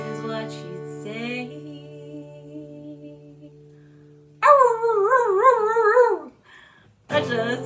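A dog howls along to a cover of a song, its long wavering howl rising loud over the music, with a singing voice before and after it.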